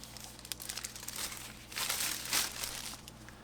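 Foam packaging is pulled from the box of a Keychron Q1 Pro keyboard, making close, soft rustling and crinkling that swells and fades over a few seconds, with no talk.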